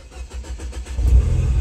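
Mini Cooper engine fitted with an aftermarket exhaust, a low pulsing idle that swells into a deeper, louder rev partway through, heard close up with no talk.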